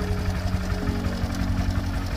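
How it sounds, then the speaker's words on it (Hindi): A motorbike engine runs steadily at idle just after being started near a rural railway station at Chak Rakhwal, a close, even low rumble with a fast knocking pulse and no talk. "अब हमने अपनी बाइक स्टार्ट कर दी है और अब हम निकल रहे हैं वापस।"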